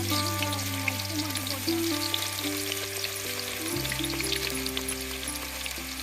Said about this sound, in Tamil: இப்படியே எண்ணெயிலே சீவி விடும்போது நமக்கு வந்து நல்லா உதிரியாக தனித்தனியாக பிரிஞ்சு நல்லா வெந்து வரும்.